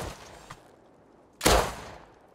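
A single loud gunshot burst from the online survival game Rust, preceded by a fainter distant shot, standing alone with no talk.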